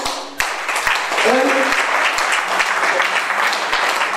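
A crowd applauds steadily, a dense wash of clapping with a few louder individual claps punctuating it, and a voice briefly heard at the start.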